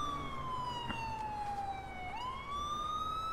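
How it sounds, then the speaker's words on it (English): A police siren in a video game wails, sweeping down and back up in pitch, steady and prominent, with a couple of sharp knocks near the end. "He's got the siren on."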